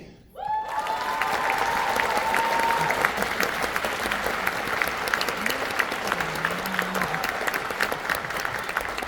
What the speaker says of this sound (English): Feel free to applaud as we call them up to receive their plaque.